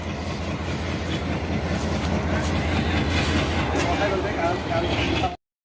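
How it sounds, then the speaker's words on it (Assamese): A train pulling away and rolling along, a steady loud rumble of wheels and carriages with faint rhythmic clatter, continuous and close throughout. "এইফালে ট্ৰেইন ষ্টাৰ্ট হৈ গ'ল"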